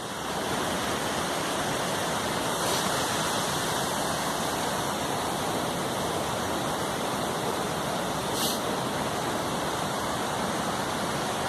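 Powerful waterfall by the remains of an old lead mine in the Yorkshire Dales, a steady loud roar of falling water filling the air continuously with no pauses.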